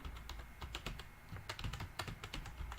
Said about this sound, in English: I just press on my keyboard